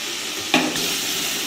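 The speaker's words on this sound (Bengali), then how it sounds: "এভাবে নাড়াচাড়া করে ভেন্ডির মধ্যে মশলাগুলো মাখিয়ে নেব।" Fried okra stirred into a wet spice masala, a steady close sizzle with one sharp spatula scrape against the pan partway through.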